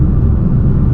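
Fiat 595 Abarth with a 1.4 turbo petrol engine, heard from inside with the windows down: a loud, steady low exhaust drone and engine rumble that fills the short moment without any talk.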